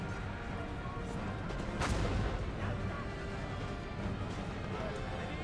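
Grenade explosions on an 18th-century battlefield in Total War: Empire, a rough continuous crackle of blasts and musketry with one sharper crash near the middle, steady and loud throughout.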